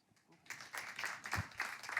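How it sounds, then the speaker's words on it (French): An audience claps for a guest joining a speaker on stage at a French ministerial event, the applause swelling in after a quiet start and continuing as a scattered, moderately close patter. "Il m'a rejoint sur scène, vous pouvez l'applaudir."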